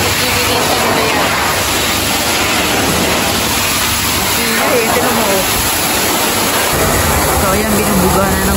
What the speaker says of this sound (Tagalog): So ayan, binubuga na ng mainit na tubig kasi nga para matanggal yung mga leaking na oil sa ilalim